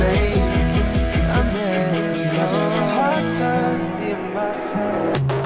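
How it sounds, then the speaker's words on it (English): A tonal delay-feedback riser in a music production: pulsing, bouncing repeats at the start smear into sustained, rising pitched layers, with a tom hit near the end, loud and continuous, no voices. "altogether it sounds like this cool riser"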